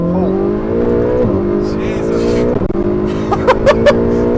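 Modified twin-turbo Ferrari 488 pulling hard, a loud engine note rising steadily in pitch with a brief dip at a gear change, heard close from inside the car, with sharp exclamations from occupants near the end.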